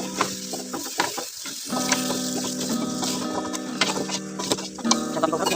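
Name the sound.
stir-frying pumpkin and carrot in a pot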